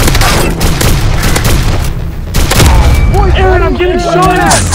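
Nerf guns firing in a Nerf battle royale, with loud, dense bursts of shots and impacts packed together under people shouting to each other throughout.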